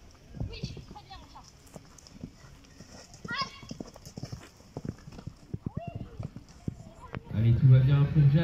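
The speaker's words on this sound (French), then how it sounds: "J'aime bien comment il galope." A horse galloping over a show jumping course during a competition, its hoofbeats rapid and rhythmic under continuous announcer commentary, with a louder burst of crowd or arena noise near the end.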